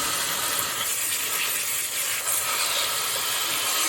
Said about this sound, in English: we're going to just spray them